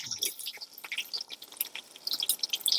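Chopped onions sizzling in hot oil with whole spices for a Vellore Arcot style mutton biryani, giving a steady fine crackle and spitting with scattered sharp pops, close and moderately quiet, with no talking.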